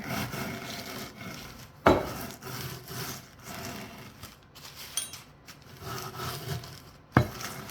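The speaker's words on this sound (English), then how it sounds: "you can always roll it with a rolling pin and make it smooth, which I'm going to do" A rolling pin crushing coarse panko breadcrumbs into finer crumbs, soft gritty rolling and rubbing strokes at close range, broken by two sharp knocks, with no talking.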